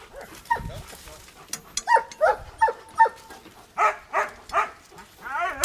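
A Belgian Malinois barks in a quick series of sharp, fairly close barks with short yips and whimpers between them, and people talk in the background.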